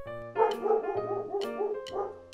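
A small dog gives a few quick, high yips and barks close by, a short burst of toy-like barking heard alone.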